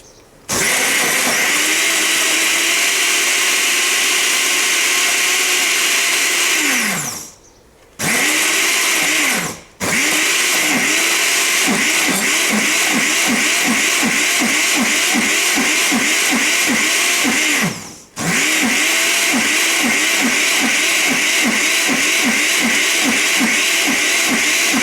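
A blender chops material for model train clump foliage, a loud continuous whirring motor that surges and dips in pulses, cutting out briefly a few times before resuming.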